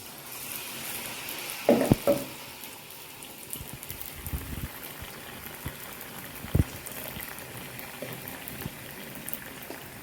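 Banana fritters (pazham pori) fry in hot oil with a steady soft crackling sizzle, quiet and close, broken by a few brief louder pops and clinks, with no talking.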